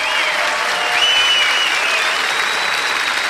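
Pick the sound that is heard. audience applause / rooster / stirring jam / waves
audience applause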